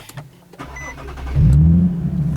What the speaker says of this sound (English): You just start the car.